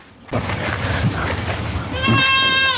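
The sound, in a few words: goats bleating in a goat shed, Jamunapari cross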